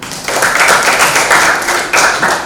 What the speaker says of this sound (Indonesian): Betul, beri tepuk tangan.